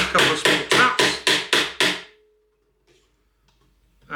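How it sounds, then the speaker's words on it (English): Seven quick, evenly spaced hammer taps on the chisel of a Ryobi hinge jig set into wood, loud and close, followed by near silence. "take the chisel part of it and put it in the hole like so. A couple of small taps."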